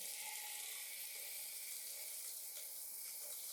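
A hotel bathroom shower runs steadily, a faint, even hiss of spraying water that holds constant throughout, with no talk.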